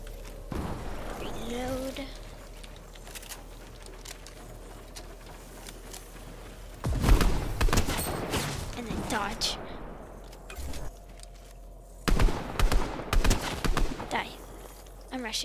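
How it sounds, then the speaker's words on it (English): Submachine gun fire rattles out in short bursts during a 3v3v3v3 online shooter match, loud clusters of shots breaking through steady game background noise, with a player talking in between. "I miss almost every SMG shot on this guy"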